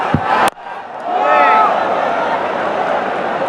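Cricket crowd at Mirpur stadium during a Pakistan vs Bangladesh T20 match, a loud sustained roar of cheering that swells after a brief sharp thud and holds steady through the clip.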